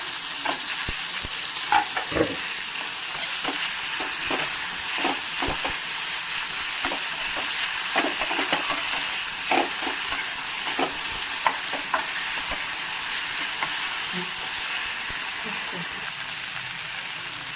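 Tomatoes frying in a kadai for pulao, giving a steady sizzle with repeated scraping and stirring clicks from a utensil, close and continuous.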